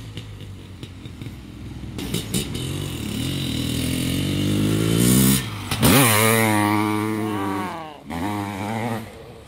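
A Honda CR500R two-stroke dirt bike revs loudly at an uphill sand drag practice, its close engine climbing in pitch, cutting off, then roaring back up in sharp bursts.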